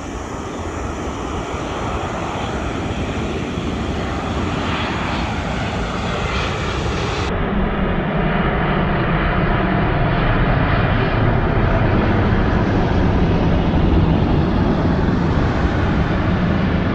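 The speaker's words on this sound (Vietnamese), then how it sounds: "Đây là chiếc 787 của Bamboo Airways chuẩn bị hạ cánh." A Bamboo Airways Boeing 787 airliner coming in to land at Noi Bai airport, its jet engines producing a loud, continuous broadband roar that holds steady throughout, with no talk.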